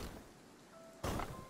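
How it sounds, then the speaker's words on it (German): Rain falling in the video game Pathless Woods, a soft steady wash that swells abruptly into a louder, heavier burst near the end. "Und jetzt seht ihr auch mal Regen in Aktion."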